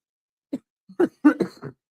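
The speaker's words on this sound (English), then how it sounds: "Sorry for the coughing." A few short, dry coughs and throat-clearing bursts in quick succession, close and fairly soft, with brief pauses between them.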